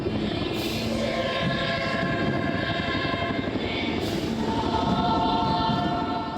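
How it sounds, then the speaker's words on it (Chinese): CH-47 transport helicopter passing overhead while carrying a large national flag at a National Day ceremony, a loud steady rotor and engine roar filling the whole stretch with a rising whine partway through. "CH-47运输直升机吊挂历届双十典礼上大面的国旗飞过天顶"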